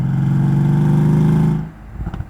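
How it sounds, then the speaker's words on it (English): A Mercedes S63 AMG engine drones loudly under acceleration, then drops off as it downshifts, and a few brief exhaust pops and crackles follow near the end. "we just got a nice little pop there on the downshift"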